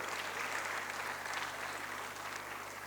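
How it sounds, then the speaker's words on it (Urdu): An audience at a Sir Syed Day gathering in Lucknow claps steadily, a dense, even wash of applause that holds at a constant level throughout with no voices over it. "آپ کے احترام میں ہم سب سے تالیاں بجوائیں گے"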